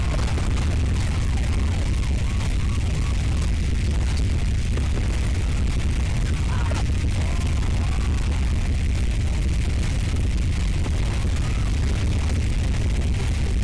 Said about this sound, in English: Oh, so many explosions.